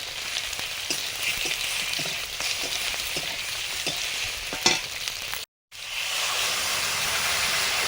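Water poured into a hot pan of Bengali fish curry with turmeric, chilli and mustard paste, giving a loud steamy sizzle and hiss with stirring taps. A brief cut of silence comes before the hiss resumes. No talking.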